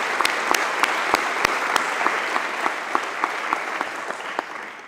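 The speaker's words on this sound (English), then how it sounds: "join me in giving a round of applause to the teachers" A graduation ceremony audience applauds the teachers, steady dense clapping with sharp individual claps standing out, sustained throughout at moderate loudness with no talk.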